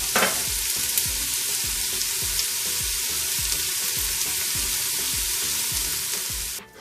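Onions and goat paya sautéing in a pot, a steady close sizzle with repeated soft scraping stirs at an even rhythm, no talking, fading out at the very end.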